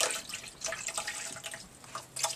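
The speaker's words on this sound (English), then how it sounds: "Add a little hot water." Hot water is poured into a small pet tank, making soft trickling and dripping splashes in uneven bursts. The sound is faint and close, with no talking.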